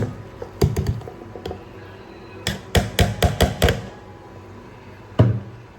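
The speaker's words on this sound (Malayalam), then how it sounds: "ഇതൊന്ന് വെള്ളം ചേർക്കാതെ ഒന്ന് ചതച്ചെടുക്കുക" Green chillies and cumin crushed without water for avial give sharp, close pounding knocks, a few scattered strikes, then a quick rapid burst of blows and a final single hit, with no talk.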